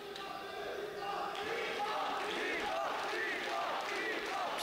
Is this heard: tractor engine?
no